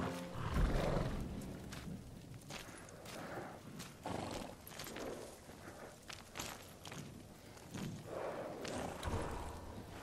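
Samurai horses in the video game Ghost of Tsushima snort, whinny and shift about, with scattered hoof clops on the ground, moderately close.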